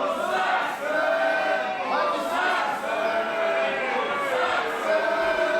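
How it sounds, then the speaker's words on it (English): A wrestling crowd at a ladder match roars in a loud, continuous wash of cheering and chanting, with a commentator's voice heard over it. "As they have been so often tonight, the crowd here split down the middle."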